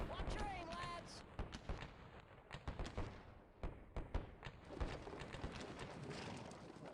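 Musket and artillery gunfire aimed at enemy infantry in the Sid Meier's Civil War strategy game, rendered as dense, rapid crackling shots and bursts that run throughout under a steady murmur of background speech.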